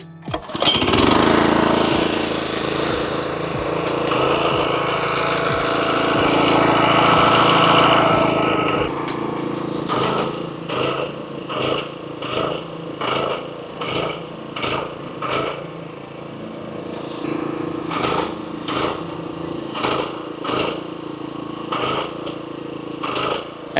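A Graco LineLazer 3400 line striper marks lines with a loud engine that first runs at a steady drone and then breaks into a choppy, pulsing rhythm as it works.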